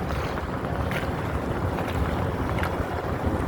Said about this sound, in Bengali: খেয়া নৌকা দিয়ে ওই পারে যাইতেছি জিঞ্জিরায়।